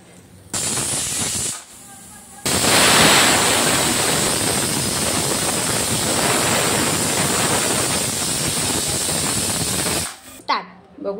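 A pressure cooker on a gas flame, cooking rice for a village-style khichdi pulao, lets off loud, hissing steam: a short burst, then a long, steady, close whistle that runs for about eight seconds before cutting off.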